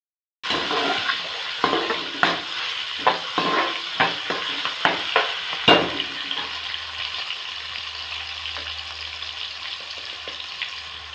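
Ginger garlic paste frying in a pan while cooking a curd chicken curry, a steady sizzle with repeated sharp stirring scrapes and taps, close and fairly loud, settling into a softer continuous sizzle.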